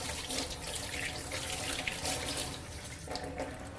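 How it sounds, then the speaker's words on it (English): Hot water running from a tap as hands are rinsed free of soap bubbles in a kitchen sink, a steady close splashing hiss with small shifts as the hands move under the stream, no voices. "I'm going to rinse it under the hot water until all the bubbles are gone"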